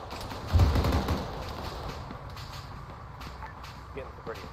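Automatic gunfire rattles in a tactical video game, a loud burst up front that fades into a steady rumbling background, with game ambience continuing underneath.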